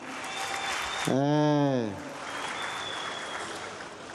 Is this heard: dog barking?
no